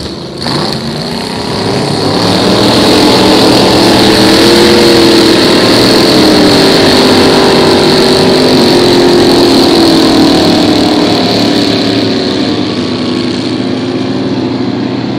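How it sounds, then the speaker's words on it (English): 5-liter inboard hydroplane racing boats roar in a heat at a regatta, a loud, sustained engine drone that swells after the first seconds and holds steady, with no voices. "some say it is the best class of inboard hydroplane racing, that being 5 liters."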